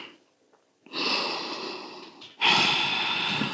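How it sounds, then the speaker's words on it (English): A person exhales audibly during a yoga forward fold, with two long, loud, breathy outbreaths, the second stronger and closer, after a brief quiet start. "melt down, stepping up to your forward fold and exhaling here"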